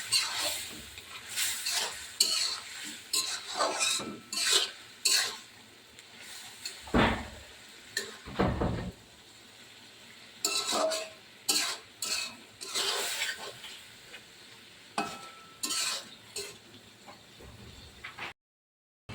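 Close stirring of pointed gourd, ridge gourd and potato frying with shrimp, with repeated scraping strokes of a spatula against the pan over a soft continuous sizzle and a brief pause midway.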